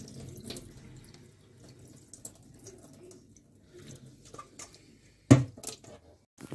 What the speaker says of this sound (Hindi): अब हम इसको धोएंगे पानी के साथ